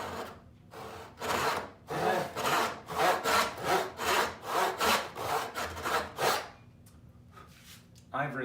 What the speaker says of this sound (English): I found that rip saws work very well in a crosscut, but crosscut saws don't rip well.